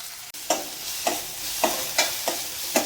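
Tomatoes sautéing for a tamarind kuzhambu, a soft continuous sizzle with about six evenly spaced scraping strokes of a spoon stirring the pan close up, no voices.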